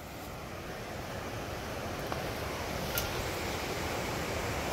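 A waterfall running with low water gives off a steady, even rushing roar that holds at a constant level for the whole stretch, with no voices.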